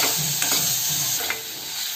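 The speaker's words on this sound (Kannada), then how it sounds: "ಟೊಮೆಟೊ ಹಾಕಿ ಫ್ರೈ ಮಾಡಬೇಕು." Tomatoes frying in a pan, with a steady broadband sizzle and a few scraping stirs of a spoon, close and fairly loud, no talking.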